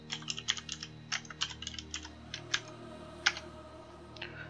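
Quick, irregular bursts of clicking keystrokes on a computer keyboard, close and fairly quiet, with short pauses between groups and no talk.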